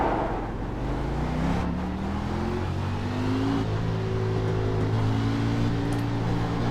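A racing car engine in the iRacing simulator, running at Circuit of the Americas, whines steadily and rises in pitch through the gears, loud and continuous with no talk.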